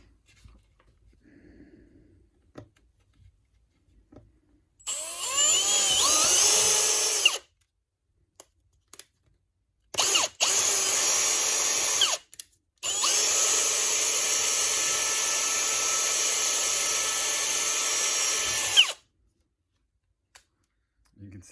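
A power drill enlarges a hole in a DH-132B helmet shell, whining loudly in three long runs separated by short silences, with a brief faint rustle before the first run.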